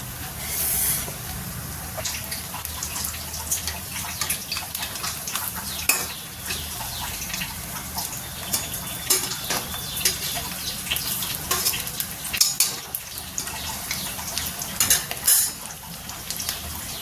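Lentil vadas for kadhi bada sizzle and crackle in hot oil in a pan, with occasional stirring and utensil clinks over a continuous close frying hiss and no talk.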